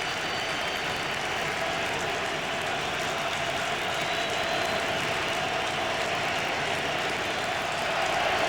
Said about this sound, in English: Crowd on its feet, 3rd and 10, cheering on this Eagles defense, which has been outstanding